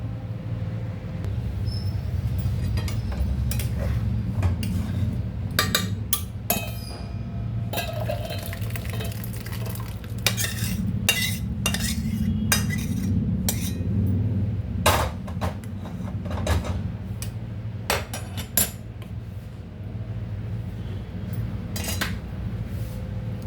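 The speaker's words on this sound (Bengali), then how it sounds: "এবার আমি আস্তে আস্তে এটাকে একটা পাত্রে ঢেলে নেব।" Chana dal poured slowly from a metal cooking pot into a serving bowl, with repeated clanks and scrapes of a ladle against metal over a steady low background hum, close and fairly loud.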